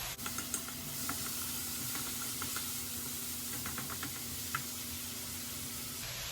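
Shrimp sautéing in a home wok give off a steady sizzling hiss with a few clinks of stirring, heard alone without talk.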